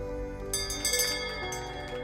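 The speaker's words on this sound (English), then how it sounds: "Felt good to ring the bell." A metal bell rung by a patient celebrating a final radiation treatment gives bright, sustained ringing, with a few struck peaks partway through over a lingering hum of overtones.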